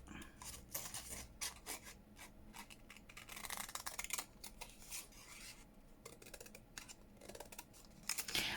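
Sharp scissors snip through a paper page for a handmade tag book, giving a steady run of close, crisp cuts with soft paper rustles between them and no talking.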